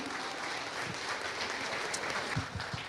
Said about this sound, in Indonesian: tepuk tangan sekali lagi untuk Bu Dewi Hesni.